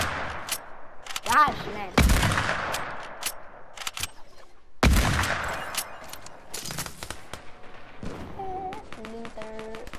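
Loud gunshots in Fortnite crack out as scattered single blasts and short bursts with ringing tails. A voice speaks briefly, and a few electronic tones sound near the end.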